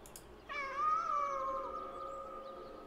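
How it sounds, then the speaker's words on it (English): A cat in the Kentucky Route Zero video game gives a single drawn-out meow that rings with a long, reverberant echo, fairly faint over a quiet background. "I like the kitties making some echoes."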